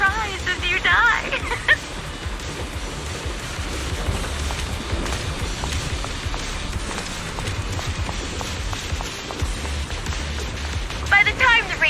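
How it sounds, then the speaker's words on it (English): In the video game Zenless Zone Zero, wind and rain rush steadily with a dense, constant wash, and patters and footfall-like taps sound beneath it while voices speak over the storm. "The wind and rain are picking up."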